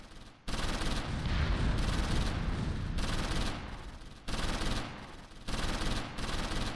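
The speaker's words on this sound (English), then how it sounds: "We are taking a lot of fire now" Heavy World War II gunfire in the Close Combat V strategy game: sustained machine-gun bursts and rifle fire in loud, dense rolling volleys broken by short gaps.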